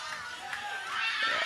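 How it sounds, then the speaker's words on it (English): Crowd noise at the Stiga table hockey World Championship Final 2023, a steady wash of cheering and chatter that swells louder toward the end, with no clear single voice standing out. "The crowd is going nuts."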